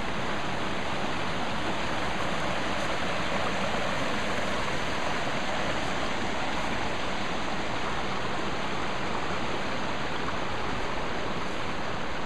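A creek runs by a wooded cabin property, making a steady, broadband rush of flowing water. It is constant and even for the whole stretch, with no voices.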